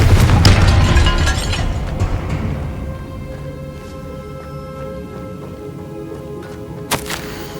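A loud Confringo spell blast in Hogwarts Legacy opens with a booming, crackling burst that rumbles and slowly fades into a ringing tail, followed by a brief sharp pop near the end.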